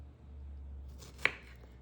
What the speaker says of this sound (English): I'm gonna slice big round slices here.